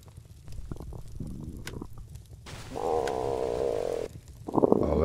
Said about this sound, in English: Oh, that was my stomach.